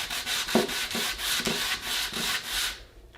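A small power sander buzzes steadily against a cabinet's finish, with rhythmic rubbing strokes, then stops near the end. Close and fairly loud, no talking.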